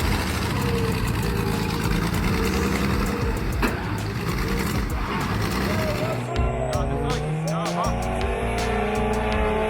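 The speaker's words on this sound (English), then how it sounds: "Does this roaring engine make you want to own one?" A loud truck engine roars and revs continuously, with a voice talking over the heavy rumble and a faint tire squeal.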